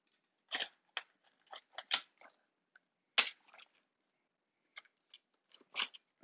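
A keycap puller prying keycaps off a keyboard makes sharp, close plastic clicks and crunchy snaps in irregular bursts, separated by short silent gaps.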